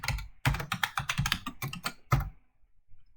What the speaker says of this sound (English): I will type my username and the password.